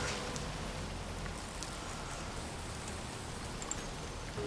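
Steady, even rain hiss from the video game Space Engineers, turned down to a softer, moderate level, continuing unbroken as a broadband wash with faint scattered drop ticks and no voices.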